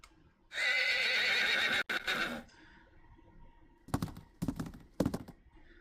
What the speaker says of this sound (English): we're actually gonna find a horse sound